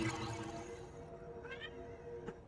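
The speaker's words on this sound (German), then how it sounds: "die Katzen töten sich schon wieder" Cats caterwauling and yowling in a fight within the video game The Legend of Zelda: Tears of the Kingdom, a drawn-out wavering meow fading over a couple of seconds with a brief cry near the end.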